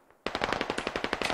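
Rapid automatic gunfire from an infantry firefight in the military shooter Squad, a close, loud burst of evenly spaced shots that starts abruptly after a brief quiet moment and keeps a steady rhythm.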